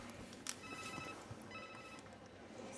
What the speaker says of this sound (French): Oh, c'est mon portable.